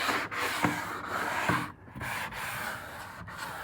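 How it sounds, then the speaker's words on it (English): A deteriorated wooden door is sanded by hand, with rough rhythmic rubbing strokes close by, each scrape separated by brief pauses, loud and without talk. "So you take this and really sand it down."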